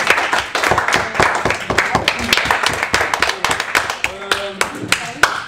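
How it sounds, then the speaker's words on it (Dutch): A classroom of upper-secondary science students gives its teacher loud, vigorous applause: dense, rapid clapping from many hands that keeps a steady, lively rhythm from start to finish. "Allereerst een heel erg hard applaus voor de docent."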